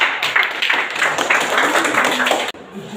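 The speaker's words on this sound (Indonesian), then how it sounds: "Beri aplaus kepada" A classroom audience claps for a student group after its presentation, a brisk round of applause that cuts off abruptly near the end, followed by quiet room sound.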